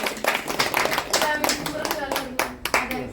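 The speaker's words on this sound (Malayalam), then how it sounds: "മുഴുവൻ നല്ലൊരു കയ്യടി കൊടുക്കുക." Guests clapping at a wedding anniversary celebration in a home courtyard, a brisk run of close, uneven hand claps lasting a few seconds, with voices talking over them.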